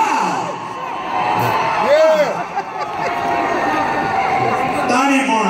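Loud concert crowd at a show, screaming and cheering continuously with whoops and shouted voices rising above the dense roar throughout.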